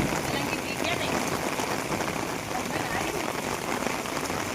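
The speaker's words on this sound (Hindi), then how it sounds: "अब बारिश तेज़ हो गई है।" Heavy rain pours down in a strong windstorm, a steady, dense, close hiss of drops striking surfaces that continues unbroken throughout, with no voices.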